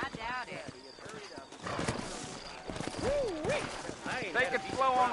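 Horses in the Red Dead Redemption game clip-clopping their hooves with repeated whinnies and neighs, close and moderately loud, mixed with game character dialogue.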